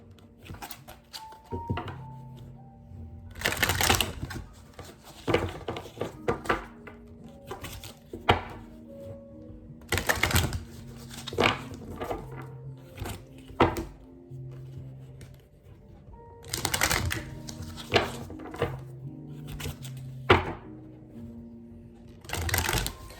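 Repeated riffle-and-bridge shuffles of a tarot card deck, loud crisp bursts of fluttering cards in clusters, with soft handling noises between them.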